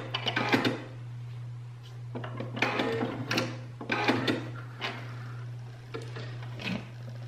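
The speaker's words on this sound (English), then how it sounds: "we're gonna do a back stitch to lock in that stitch" A sewing machine back stitches along a hem in short separate bursts, each a quick mechanical rattle, with pauses and handling clicks between them over a steady low hum.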